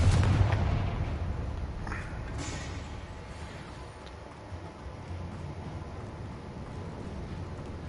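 A Confringo blasting spell goes off in a video game: a heavy, booming blast right at the start that decays into a long, low rumbling tail, with a faint crackle shortly after and no voices.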